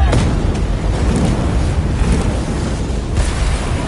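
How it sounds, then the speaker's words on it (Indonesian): A continuous, loud roaring rumble like the sustained blast of a huge explosion, dense and heavy throughout with no quiet moments. "Setelah ledakan yang sangat besar terjadi"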